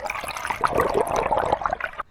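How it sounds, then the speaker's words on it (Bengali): Water splashes and gurgles close by during a village boat ride, a continuous rippling slosh that breaks off abruptly at the end. "এখন আপনাদেরকে পানির রিয়েল শব্দ শোনাচ্ছি"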